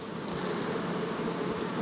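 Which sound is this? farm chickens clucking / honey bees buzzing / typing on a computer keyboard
honey bees buzzing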